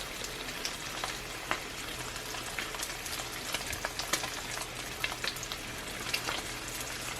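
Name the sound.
grilling a sourdough breakfast sandwich in a pan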